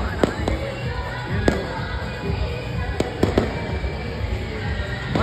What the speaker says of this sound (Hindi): देखिए हर जगह पटाखे फूट रहे